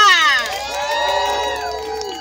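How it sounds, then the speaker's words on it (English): A crowd at an outdoor health-care rally and bike ride outside Lincoln Hospital in the Bronx cheers, with loud overlapping shouts and whoops right at the start that ease slightly but carry on throughout. "Okay, a big round of applause for Jimena."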